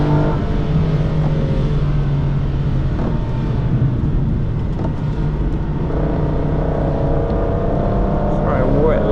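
An Aston Martin DB9 lapping a wet circuit, its engine droning steadily and loud throughout with shifting pitch as it accelerates, and a voice talking over the engine noise.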